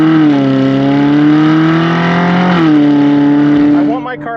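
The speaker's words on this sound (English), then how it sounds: "The client warned me that this car was loud" A loud, close Ferrari 458 Spider V8 exhaust roar holds a steady high-revving note, dips briefly, then climbs again before cutting off sharply at the end.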